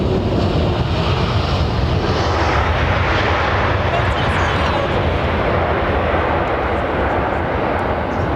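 A Boeing 787 Dreamliner airliner at London Heathrow Airport produces a loud, continuous jet engine roar throughout, mixed with wind noise.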